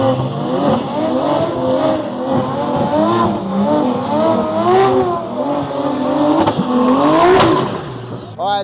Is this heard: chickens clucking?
no